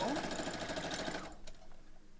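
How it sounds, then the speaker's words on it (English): A sewing machine chain-pieces rows of a pixel quilt block, a quiet, rapid mechanical whirring for just over a second before it stops, leaving faint handling clicks and soft background. "So what I'm doing is I'm sewing one row. So this is my chain piecing I do to make this speed it up."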